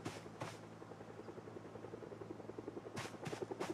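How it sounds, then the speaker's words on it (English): A helicopter in a video game gives a low, steady rotor drone that holds for nearly four seconds, broken by a few brief bright bursts of other game sounds, fairly faint overall. "Here's my heli."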